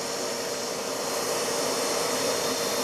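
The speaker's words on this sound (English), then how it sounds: "I noticed all the dust in here and thought I'd suck it up and thought it looked really cool as it went into the vacuum" A vacuum cleaner runs with a steady, loud whooshing roar while sucking up sawdust in a woodworking shop near a band saw, with no voices.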